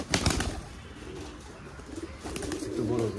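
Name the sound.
pigeons in a pigeon farm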